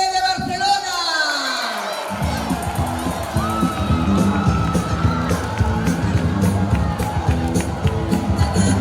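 A school crowd at a carnival festival prize ceremony cheers and whoops loudly for class 1B, with excited children's shouts and a noisy, sustained roar, and a short falling tone early on.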